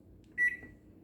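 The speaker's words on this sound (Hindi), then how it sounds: "माइक्रोवेव को मैं सेट करूं" A single short electronic beep from a microwave oven keypad being set for cooking a pizza-style egg omelette, fairly close and clear over a low background hum.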